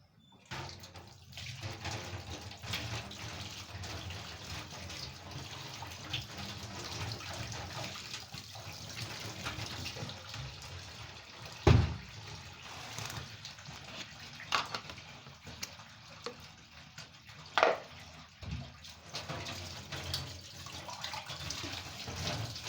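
Tap water runs steadily in a home kitchen while drinking water is prepared, a continuous rushing flow over twenty seconds, broken by a few sharp clunks and knocks of vessels.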